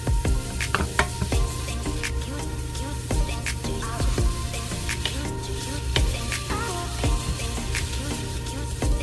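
Vegetables including carrots sizzle and crackle as they are stir-fried in a pan for kkoma gimbap, a busy continuous frying hiss with sharp little pops and stirring scrapes, close and steady throughout.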